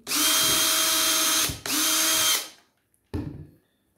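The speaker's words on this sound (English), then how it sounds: "And drill that one in." A power drill whirs loudly in two long bursts, driving a screw into wood while assembling a ukulele kit, followed by a short third burst as it finishes and stops.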